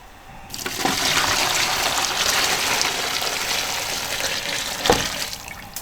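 Liquid pours and rushes steadily into a boiling Sichuan braising broth in an iron wok, a loud continuous watery hiss lasting several seconds with a brief splash near the end.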